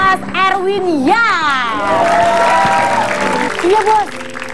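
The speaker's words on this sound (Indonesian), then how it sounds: "tepuk tangan buat Mas Erwin ya" A studio audience at a television talk show applauds and cheers to welcome a guest, with excited voices and shouts rising over the clapping throughout.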